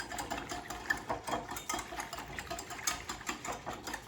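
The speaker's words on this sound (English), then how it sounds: "now I'm just going to use the whisk and mix it up" A whisk beats a spice mixture in a bowl with rapid, steady scraping and tapping that continues without pause, close and fairly quiet.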